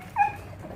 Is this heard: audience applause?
no